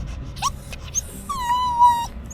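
A puppy at a camping spot whimpers with short squeaks, then a longer high, wavering whine near the end. No one speaks.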